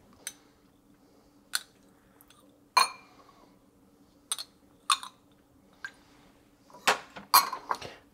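A bowl of rice being mixed with saffron sets off a scattered series of sharp, close clinks and knocks of dishes and utensils against one another, separated by quiet gaps, with no talking.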